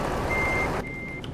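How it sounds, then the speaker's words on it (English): A reversing truck in Euro Truck Simulator 2 sounds its beeper, a steady high tone that drops out briefly and returns, over a low rumbling engine. "I do know how to back up a truck."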